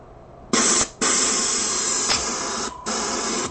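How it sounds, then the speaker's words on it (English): A steady hiss of paint spraying from an airbrush onto a shoe, cutting out briefly twice and resuming, loud and close. "So it seems like it's spraying okay."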